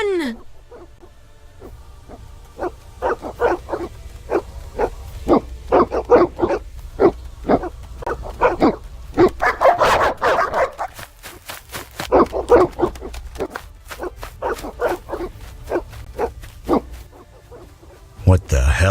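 Evil dogs barking and snarling in the video game The Witcher, a rapid run of sharp, loud barks and growls, some bursts overlapping into a frenzied flurry, with game voices mixed in.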